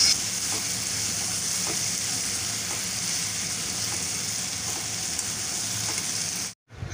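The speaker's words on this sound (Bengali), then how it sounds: "ক্যাপসিকাম, পেঁয়াজ আর টমেটোগুলো ভালো করে নেড়ে চেড়ে বারবার ভাজতে হবে যতক্ষণ না নরম হয়ে যায়।" Capsicum, onion and tomato sizzle steadily in a hot pan while being stirred, a loud continuous frying hiss with faint scraping that cuts out abruptly near the end.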